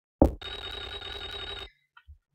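Telephone ringing in the horror video game Clock Tower, a single loud, sustained bell ring lasting over a second after a sharp click, then cutting off into near silence.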